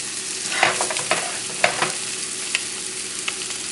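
Filet of sole, or fluke, cooking gently in cream in a pan over a low flame, a soft continuous bubbling sizzle with a few light utensil scrapes and taps, close by and without talk.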